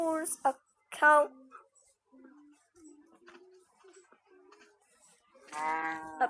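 A cow moos from a children's farm animals song, long drawn-out calls at the start and end with quieter sounds between, no clear speech.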